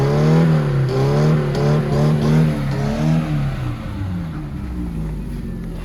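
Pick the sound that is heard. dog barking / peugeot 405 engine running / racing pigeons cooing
peugeot 405 engine running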